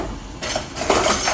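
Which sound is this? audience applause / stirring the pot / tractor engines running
stirring the pot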